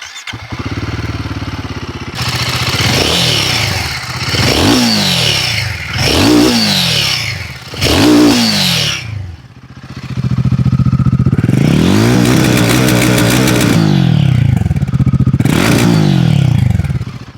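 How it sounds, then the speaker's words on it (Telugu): A Royal Enfield Guerrilla 450's engine and exhaust rev loudly up close in about four sharp blips, then two longer sustained throttle pulls with a crisp, throaty note, with no talk. "ఎగ్జాస్ట్ నోట్ అలాగే ఇంజిన్ సౌండ్ ఒక్కసారి చూద్దాం."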